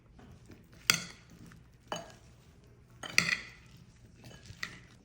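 Salt, black pepper and spices are mixed in a bowl, with a few sharp clinks and scrapes of a utensil against the dish spaced a second or two apart, close and fairly quiet, with no talk.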